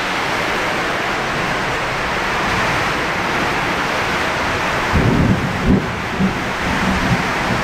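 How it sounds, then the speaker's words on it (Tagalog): Heavy storm rain pours in a steady, loud broadband roar, with low rumbling gusts or distant thunder swelling in the second half; no talking. "Lakas ng ulan na yan ah. Grabe yung ulan na yan, ang lakas, grabe."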